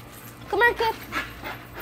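A dog pants and whimpers outdoors on grass, giving a couple of short high whines close by, then quick breathy panting, with low background hum.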